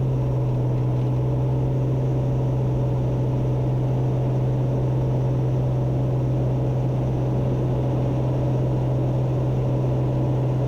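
A Piper Comanche propeller airplane taking off, its engine producing a loud, steady drone with a strong low hum that holds constant throughout, heard from inside the aircraft with no talking.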